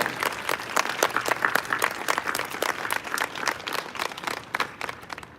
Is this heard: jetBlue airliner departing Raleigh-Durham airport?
no